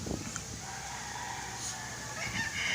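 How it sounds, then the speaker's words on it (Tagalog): Distant, low-level clucking and crowing from a Spangled chicken kept with other birds in a backyard, scattered calls over a hushed outdoor background. "Yan yung Spangled na manok ko."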